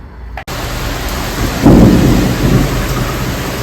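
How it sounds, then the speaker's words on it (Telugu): Heavy rain pours steadily with a swelling rumble of thunder near the middle, loud and continuous with no talking over it. "ఫుల్ అంటే ఫుల్ వర్షం పడుతుంది"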